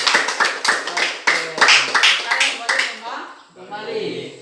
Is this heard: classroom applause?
yes